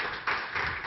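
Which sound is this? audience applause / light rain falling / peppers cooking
audience applause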